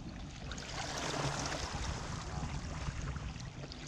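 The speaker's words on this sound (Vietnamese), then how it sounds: "Chỉ nghe thấy tiếng sóng rào rạt và tiếng gió thổi." River waves lap and wind blows around a banana-tree raft boat in the middle of a river, a soft, steady wash of water and breeze with no talking.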